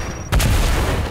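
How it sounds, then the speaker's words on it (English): An explosion in the video game Fortnite: a sudden heavy boom bursts in after a brief quiet moment, followed by a loud rumbling roar that stays high to the end. "I exploded something."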